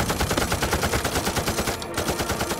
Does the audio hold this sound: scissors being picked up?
no